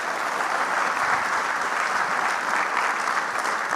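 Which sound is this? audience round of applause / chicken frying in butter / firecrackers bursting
audience round of applause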